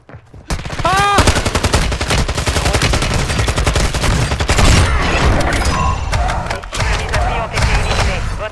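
Rapid bursts of gunfire in a sniper shooting game, shots rattling off nearly continuously at loud, close range, with brief thuds mixed in and no clear gaps.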